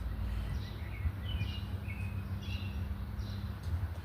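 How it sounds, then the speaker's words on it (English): Northern cardinal singing outdoors, a few thin, faint whistled phrases repeated over steady low background rumble. "I love when the cardinal sings."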